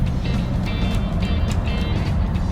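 A Mercedes GL63 AMG fresh from an auction, with low tire pressure and error codes, rolls along the road with a steady loud drone of road and engine noise, while faint high chirps and squeaks repeat over it.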